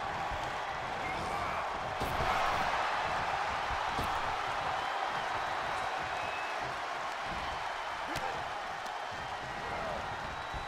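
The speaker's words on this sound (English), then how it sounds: "Lesnar is getting the whole crowd behind him now" Steady crowd roar and cheering from a WWE 2K23 wrestling match arena, a dense continuous wash of noise holding at even loudness throughout, with faint sharp thuds now and then.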